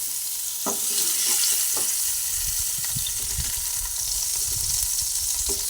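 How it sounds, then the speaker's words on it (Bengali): Pieces of pointed gourd (potol) frying in hot oil make a steady, close sizzle. A few sharp clinks and scrapes from a utensil sound now and then. "পটল কিছুটা ভেজে নিলাম"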